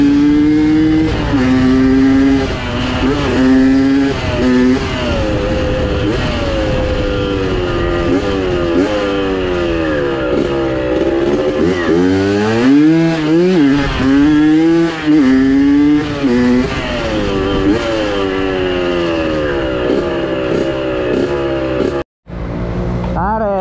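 A dirt bike motorcycle on a trail ride runs loud and close, its engine revving up and down in repeated rising and falling sweeps, with a short drop-out near the end.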